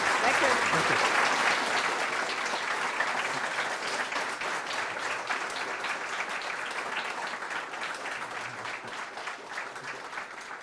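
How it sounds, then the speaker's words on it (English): Sustained audience applause for conference panelists, a dense, steady wash of many hands clapping in a hall, holding strong for about ten seconds with a slight fade and faint cheers. "please join me in giving a big round of applause for our time"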